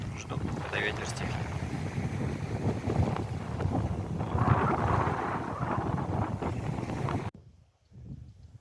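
Strong storm wind roars across the sea near Magadan, a dense, steady buffeting rush that stays loud for several seconds, then drops away abruptly near the end.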